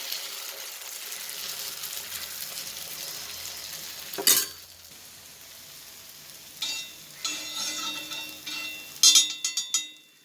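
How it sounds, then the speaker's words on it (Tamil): Wheat and jaggery appam batter fries in ghee with a soft, steady sizzle, broken by a sharp clatter partway through and a run of scraping, clinking stirs near the end. "கோதுமை வெல்லம் நெய் கொஞ்சமாக உப்பு சேர்த்து கலந்து நெய் ஊற்றி சுட்டுட்ருக்கேன்"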